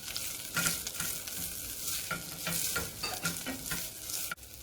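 Corn kernels sizzle and crackle in a hot pan, a steady close frying hiss broken by repeated stirring scrapes and small pops, with no voices.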